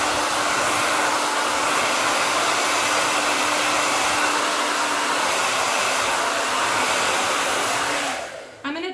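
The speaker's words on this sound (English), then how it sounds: "I'm going to have it on warm right now just to start. And then all I'm doing is I'm just going to try to blow dry it with some lift." A hair dryer on its warm setting blows steadily and loudly up close while a wig is dried for lift, a constant airy roar that cuts off at the end.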